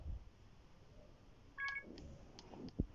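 A short burst of telephone dialing tones in the mobile puzzle game Save The Girl, a few brief beeps midway through, fairly faint against quiet background noise and a soft thump at the end.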